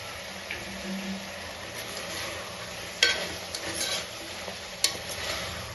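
Mutton fries in oil with ginger garlic green chilli paste, with a steady close sizzle and spatter under repeated scraping stirs and a couple of sharp utensil knocks.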